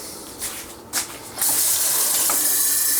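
Kitchen tap water gushing into a big cooking pot, starting after a couple of faint knocks and then running as a steady, close, fairly loud stream.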